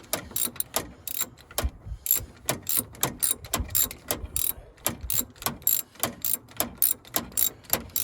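A wrench ratchets against a nut and bolt on a 1965 White tractor's hydraulic clutch, giving rapid, close, metallic clicking bursts in an uneven rhythm throughout, with no voices.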